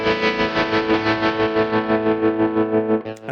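Electric guitar through a Tex trem tremolo effect on a 25-year-old guitar modeller holds a sustained, slightly distorted chord that pulses in steady, even volume throbs, loud and close, ending with a brief scrape.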